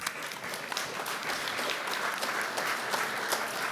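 Round of audience applause at a pitch-style business event, a steady wash of many hands clapping, moderately distant and continuous without speech.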